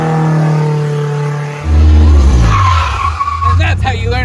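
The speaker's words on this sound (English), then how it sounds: "We're gonna rev up the car, and then we're gonna take the clutch pedal out as fast as we can." Honda Civic engine revving hard, then a clutch dump with tires squealing and skidding, loud and close, the rev dropping into a screeching scrub as the car launches.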